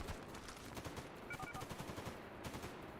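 Rapid automatic gunfire in a video game, sustained bursts of rattling shots at moderate distance, fairly quiet and continuous with no talk.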